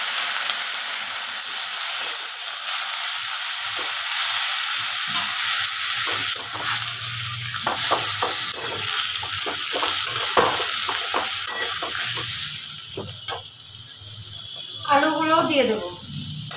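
Bottle gourd greens tossed into hot oil tempered with dried red chillies and five-spice, crackling and sizzling steadily in a pan with a few stirring clatters and a brief voice near the end.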